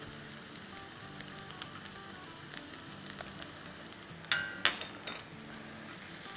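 Onions with garlic and ginger paste sauté in a pan for an egg gotala breakfast, giving a quiet steady sizzle with scattered light clinks of a spoon against the pan.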